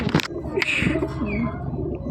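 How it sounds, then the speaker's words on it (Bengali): Andhra bloodline pigeons, a male and female pair, coo softly in a short close burst, mixed with scuffling and a voice talking nearby. "পায়রাগুলো খুবই সুন্দর আন্ধ্রা ব্লাড লাইনের পায়রা আছে"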